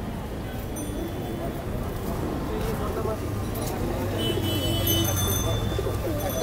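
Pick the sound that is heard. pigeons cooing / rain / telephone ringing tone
pigeons cooing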